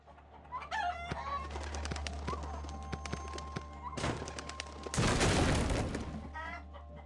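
Monster chickens in a horror video game, clucking and squawking amid thumps, clattering hits and bursts of noisy commotion over a steady low hum, with no talking.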